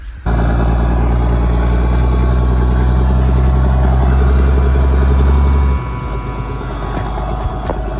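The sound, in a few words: army truck engine running, idling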